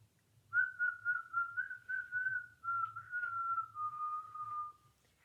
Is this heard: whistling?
yes